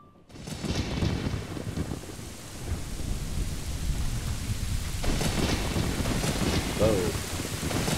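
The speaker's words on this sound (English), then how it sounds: "Lightning. Lots of lightning." A storm in Zelda: Ocarina of Time: a thunder crack breaks over a steady wash of rain, and a second rumbling roll swells a few seconds later, both loud and close.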